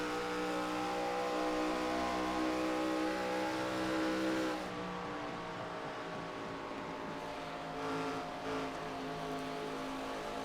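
ARCA stock cars racing around Auto Club Speedway: a loud, sustained engine roar with strong harmonic tones that holds steady, then drops and shifts pitch as cars sweep past through the turns.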